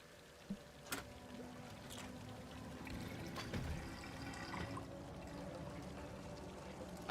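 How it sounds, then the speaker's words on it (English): Water flows and pours in a bathroom, a faint, continuous trickling wash with a couple of soft clicks near the start. "I hear the water flowing and I'm just like, bathroom sounds"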